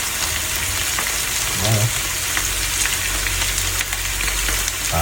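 Onions frying with sugar and soy sauce in a pan for beef tapa, a steady close sizzle throughout with a short stir partway, and a brief word spoken over it.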